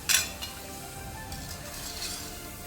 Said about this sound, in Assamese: এতিয়া মই এটা এটাকৈ গৰম তেলত ভাজি যাম।